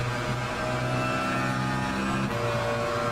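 A race car engine in the sim racing game Le Mans Ultimate, at the Imola circuit in Italy, drones steadily and loudly without a break from an onboard view.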